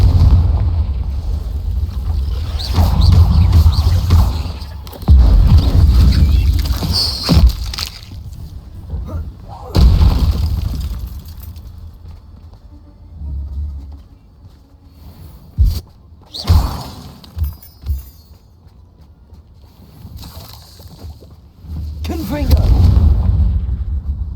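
Confringo spell blasts in the video game Hogwarts Legacy, several loud booming explosions with rumbling tails separated by quieter gaps and sharp impacts, with speech in between.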